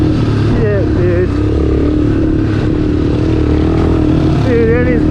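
A cruiser motorcycle ridden off-road, its engine a loud continuous drone with rising and falling revs throughout, with excited voices talking over it.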